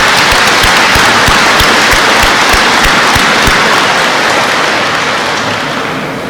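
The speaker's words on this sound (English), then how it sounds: "deserves a round of applause" Loud, dense applause from a large crowd at a school FFA ceremony, steady clapping filling the space before tapering off slightly at the end.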